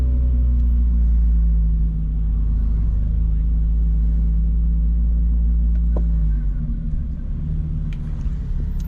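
A Mazda RX-7 engine idles with a deep, steady rumble close by, its low drone easing slightly near the end.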